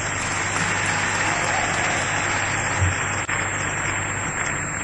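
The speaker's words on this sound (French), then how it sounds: "acclamez pour les députés aussi" An audience in a large hall applauds deputies at a formal ceremony with dense, sustained clapping that stays even and continuous from start to finish, heard at a moderate distance.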